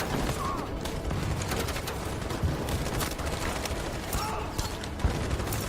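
Rapid bursts of gunfire and mechanical clatter from the video game Detroit: Become Human, sustained and fairly dense across the clip at moderate level, with no clear speech.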